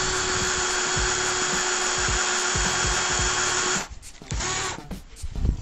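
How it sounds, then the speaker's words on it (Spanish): Power drill boring into wood with a handmade drill bit, a steady loud whine running for nearly four seconds, then stopping and leaving brief rubs and knocks of the workpiece. "hacemos la perforación para probar si realmente nos funcionó nuestra broca fabricada a mano"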